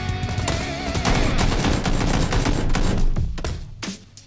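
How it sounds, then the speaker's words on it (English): Rapid bursts of gunfire in the game PUBG, loud and close, with overlapping shots in a dense volley that tapers off near the end. "there were some extra mystery gunshots going on in that last exchange"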